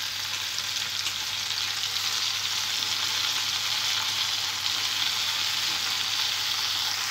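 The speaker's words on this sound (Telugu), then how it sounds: "ఆయిల్ వేడైన తర్వాత సన్నగా కట్ చేసుకున్న గోంగూర వేసుకోవాలి." Finely chopped gongura leaves frying in hot oil in a pan while cooking hotel-style gongura pachadi, a steady loud sizzle and crackle running unbroken throughout.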